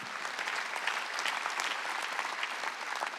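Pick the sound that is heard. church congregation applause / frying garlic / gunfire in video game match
church congregation applause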